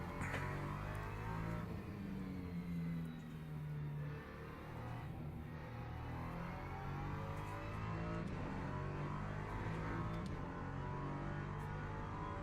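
A Ligier LMP3 prototype race car engine in the Le Mans Ultimate racing game drones and revs continuously, its pitch shifting up and down as it accelerates. Moderately loud, with no talking.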